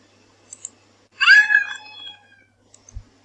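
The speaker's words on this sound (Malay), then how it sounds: "Ini adalah bunyi cat." A single drawn-out cat meow rings out clearly against near silence, preceded and followed by a few faint clicks.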